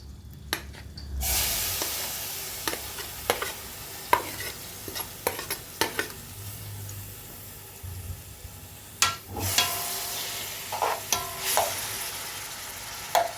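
Grated onion cooking in oil in a pot, the same one used to fry zucchini, with a continuous sizzle and repeated scraping stirs and utensil taps against the metal, close and fairly loud.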